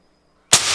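A homemade compressed-air gun with no projectile fires a single sharp, loud blast of air after silence, the burst hissing on briefly after the initial crack.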